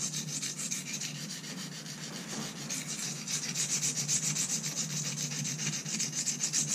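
A Swiss Army pocket knife blade is stroked steadily across the coarse side of a Norton Crystalline sharpening stone, giving a close, continuous, gritty scraping with an even rhythm and no talking.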